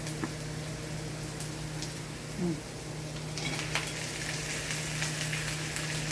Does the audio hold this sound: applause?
no